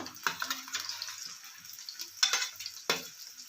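Onion, garlic, cinnamon and cloves frying in oil in a pan, giving a close, crackling sizzle with bursts of louder spatter and stirring.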